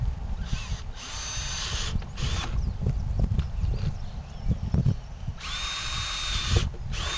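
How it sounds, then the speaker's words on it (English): A power drill whines in several bursts, starting and stopping as it bores easily through the plastic of a Christmas tree stand, with clattering and knocking between runs, close by. "Get my stool situated here and start drilling away."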